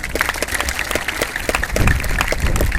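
An audience at an AFC Grassroots Football Day opening event in Jessore claps, a dense crowd of hands beating in a steady patter that grows slightly fuller toward the end.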